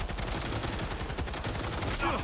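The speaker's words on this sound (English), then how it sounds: "I'm gonna keep shooting until that thing's gone. I like machine gun." Rapid light machine gun fire in Cyberpunk 2077 rattles continuously and loudly, a dense unbroken stream of shots close up.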